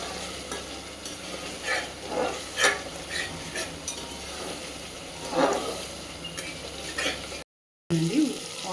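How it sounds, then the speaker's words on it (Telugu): Chicken pulao fries in a pot as a spoon stirs it, with repeated scraping strokes over a steady sizzle, fairly close and without speech. "కింద మాడకుండా ఇలా తిప్పుతూ ఉండాలి."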